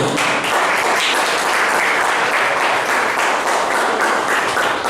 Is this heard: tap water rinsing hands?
no